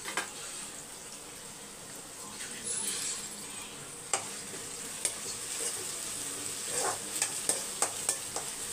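Onion, a single broken green chili and curry leaves sautéing in hot oil in a pan, giving a steady soft sizzle with a few sharp stirring clicks and crackles toward the end.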